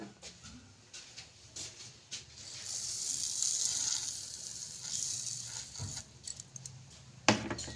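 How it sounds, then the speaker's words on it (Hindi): A bowl of sugar tipped into bread halwa cooking in a pan gives a steady, soft sizzling hiss that swells midway and then settles, with a few light clinks near the end. "अब हम इसमें 1 कटोरी शक्कर डाल देंगे।"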